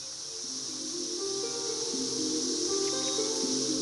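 A dense chorus of periodical cicadas gives a constant high, shimmering buzz, steady and loud throughout, with faint tonal sounds beneath.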